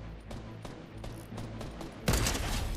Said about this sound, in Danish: Der er skud lige heroppe.